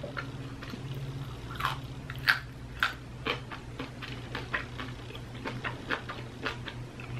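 Crispy battered KFC fried chicken crunches between the teeth in a steady run of close, sharp bites and chews, with no talking.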